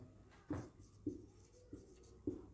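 A teacher writes on a classroom board during an English grammar lesson. Four short, faint scratching strokes come at a steady, unhurried pace, with no talking over them.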